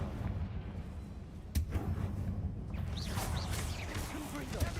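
A sharp blast from the Confringo spell in the Hogwarts Legacy game strikes once, a sudden crack and boom over low rumbling battle noise, followed by whooshing magical effects.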